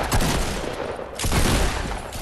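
Dense, continuous automatic gunfire from a weapon in the Squad tactical shooter game, loud and close, with rapid overlapping shots and a brief dip midway before firing resumes.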